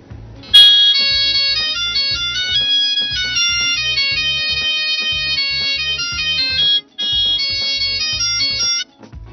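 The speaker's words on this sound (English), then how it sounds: "Now that's an extremely annoying ringtone" A dual-SIM 9900 mobile phone rings with an incoming call, a loud, repeating electronic melody of bright tones playing steadily for several seconds with brief breaks, no voices.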